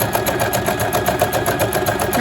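A Bernette B35 sewing machine runs steadily while free-motion stitching, giving a fast, even mechanical whir and ticking at close range with no voices.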